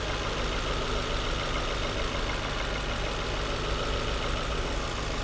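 A car engine with a leaking vacuum hose runs steadily up close, a dense, loud mechanical drone with slightly unsteady revs and no voices.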